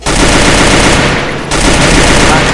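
Rapid automatic gunfire from the battle royale game Free Fire, loud and continuous across the whole stretch, with a brief dip before the bursts resume.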